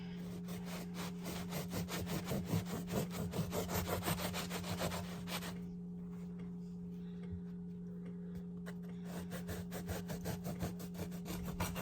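A knife sawing thick slices from a loaf of cinnamon raisin bread, rapid rhythmic rasping strokes close by, a brief pause, then more steady sawing under a faint hum.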